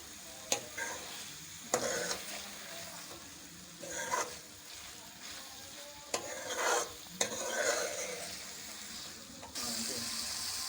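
Boiled white chickpeas fried in masala are stirred in a pan, with repeated scraping strokes and a low sizzle between them and some splashy clatter, close by.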